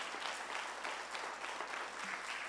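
A church congregation breaks into steady, dense applause, a continuous wash of many hands clapping at a moderate distance with no pauses.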